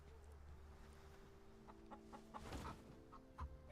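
A pet chicken clucks softly in a few short, uneven bursts against a quiet background.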